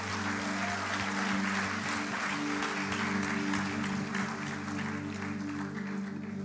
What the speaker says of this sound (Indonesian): Berikan tepuk tangan buat Tuhan Yesus yang baik